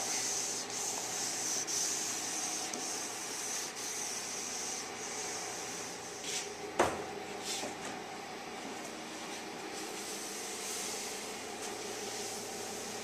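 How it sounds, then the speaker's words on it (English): Hand sanding a finish with fine 1200-grit sandpaper, a soft, continuous rubbing hiss with faint back-and-forth strokes, steady and close, interrupted once by a brief knock. "So after fine sanding with, you know, final sandpaper grit is 1200."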